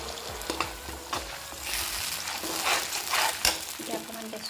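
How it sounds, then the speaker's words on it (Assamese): Ripe tomato paste fries in a pan with onions over a low gas flame for a jackfruit seed curry, a steady close sizzle broken by stirring scrapes and soft clinks. "এতিয়া আমি এনেদৰে কম গেছত ভাজি থাকিব লাগিব"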